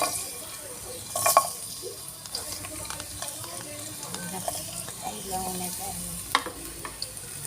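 Garlic fries in a pan as the first step of chicken adobo, a steady close sizzle broken by scraping and clinking from stirring, with occasional louder taps.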